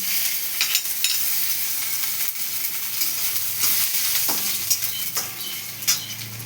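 Chopped ginger fries in hot oil after an asafoetida tempering, giving a steady close hiss and sizzle with a few light utensil clicks against the pan.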